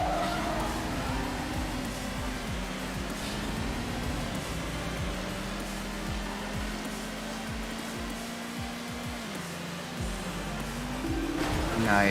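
A Zender race car in the Midnight Club: Street Racing video game holds a steady, droning engine note with shifting pitch for about twelve seconds, with brief tire-skid noises over it.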